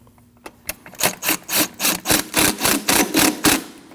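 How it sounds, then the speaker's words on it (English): A wrench ratchets in quick repeated strokes while tightening the belt tensioner bolt on a 2003-2008 Subaru Forester 2.5L, giving a close, rhythmic series of short rasping clicks that grows steadier toward the end. "now it's time to tighten that tensioner bolt"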